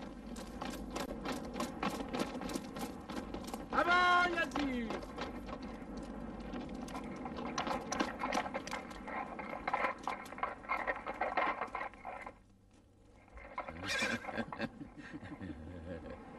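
A horse in a dramatized early Islamic-era battle story gives a single descending neigh amid a busy run of rapid, rhythmic hoofbeats, with voices and other dramatic sound around it.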